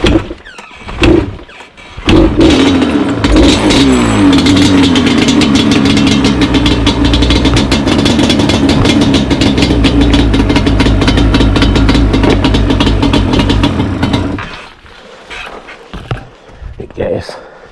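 A 2004 Yamaha Banshee ATV engine starts after a couple of brief sputters, then runs loud and close for about twelve seconds with a raspy, buzzing idle and light revs before cutting off.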